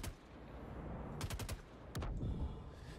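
Light machine gun (LMG) firing in the space game Star Citizen, several short bursts of sharp shots at moderate loudness over a steady ambient hum, with no voices.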